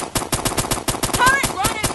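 Rapid automatic turret fire in the Roblox game Q Clash, a steady fast burst of shots at close range with brief voice lines and effects over it.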